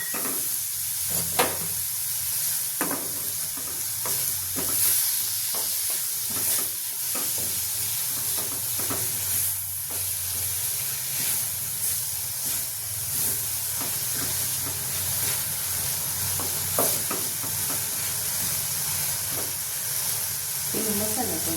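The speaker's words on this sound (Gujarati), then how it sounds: "હવે આ દાળ ઉમેરી દઈશું।" Lentils (dal) hit a hot pan in a home kitchen, giving a steady, moderately loud sizzle with scattered scraping clicks from stirring throughout, with no talking.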